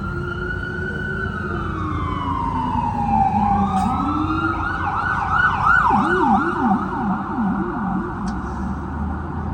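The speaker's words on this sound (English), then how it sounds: "Got an ambulance going by." A wailing ambulance siren sweeps up and down as it passes close by in Boston, loud and steady over street traffic rumble, shifting into a faster yelp partway through.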